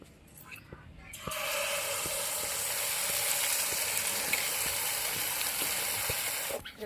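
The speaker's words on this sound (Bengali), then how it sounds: "এবার মালপোয়াটা ভেজে নেবো" Semolina malpua batter frying in hot oil, a steady broadband sizzle that starts abruptly after a second and holds loud and close with faint clinks, then cuts off near the end.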